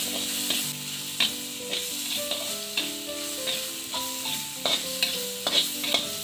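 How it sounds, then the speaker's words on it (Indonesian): Shrimp and soy sauce sizzle steadily in a hot pan while a utensil scrapes and clacks against it in irregular stirring strokes. "Tumis sebentar."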